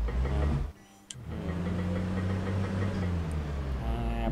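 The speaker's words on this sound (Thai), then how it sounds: "เดี๋ยวเอารถไถออกก่อนหน่อยนี่มาจอดอะไรใกล้เถอะ โอ้กว่าจะสตาร์ทได้" A farm tractor engine catches after a brief cranking pause, settling into a loud, close, steady low-pitched chugging idle with a faint knocking rhythm.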